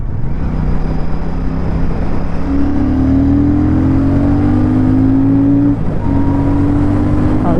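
A 2024 Royal Enfield Shotgun 650 twin-cylinder bobber pulls loudly up through the revs on the road, its rising engine note dipping briefly at a gear change before climbing again, with steady wind rush underneath.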